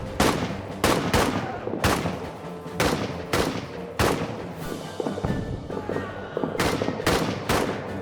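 Heavy artillery and gunfire in the trench warfare game All Quiet in the Trenches, loud repeated booming blasts at irregular intervals.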